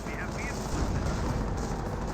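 Battle explosions and gunfire from the WWII strategy game Company of Heroes, a dense continuous rumble of blasts and shots at steady loudness, with game voices mixed in.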